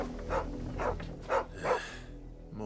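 A dog in the game Final Fantasy XVI barks four times in an uneven rhythm, the barks moderately loud and close over a low ambient hum.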